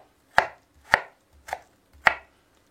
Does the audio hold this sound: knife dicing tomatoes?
yes